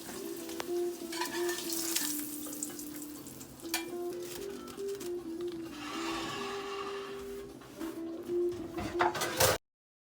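Eggs flipped over in a Thyme & Table pan sizzle and crackle steadily at close range, with occasional scraping and clinking of a utensil, until the sound cuts off abruptly.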